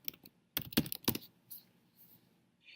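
Keys on a computer keyboard clatter in two quick bursts of clicks, close and fairly loud, followed by faint, scattered sounds and near silence.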